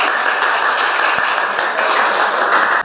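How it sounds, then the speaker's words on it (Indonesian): A classroom group claps for a presenting group, producing a dense, steady burst of applause that lasts a few seconds and stops suddenly. "Tepuk tangan untuk kelompok 3."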